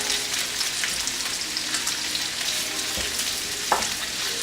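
Sausages fry in a pan, a dense close crackling sizzle that holds steady throughout, with a few faint utensil scrapes and no talking.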